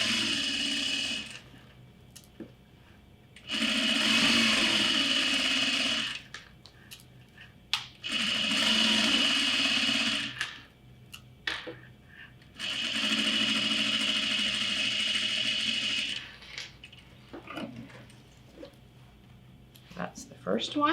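A sewing machine stitches bag straps in several long, steady runs of fast whirring needle strokes separated by pauses, close and loud, with a voice talking in the gaps.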